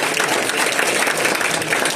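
An audience at an annual kidney fund fundraiser applauds loudly and steadily, a dense close wall of clapping that holds without pause from start to finish.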